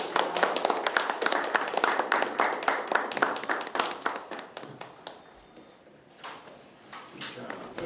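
Audience applause at a university education-expert training agreement signing ceremony in Daegu: dense, steady clapping through most of the stretch, thinning toward the end, with no talking over it.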